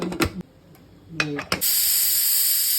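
Steam hisses steadily and loudly from a pressure cooker holding macaroni in water with tomato sauce and spice powder, following a few sharp clicks and taps of the cooker.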